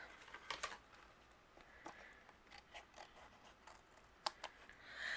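Scissors snip away excess cardstock overhanging a handmade greeting card, a series of short, crisp, close cuts at an uneven pace, with quiet rustles of paper between them and no talk.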